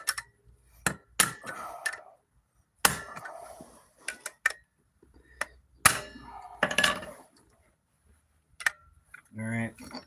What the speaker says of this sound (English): All right, big roofing hammer.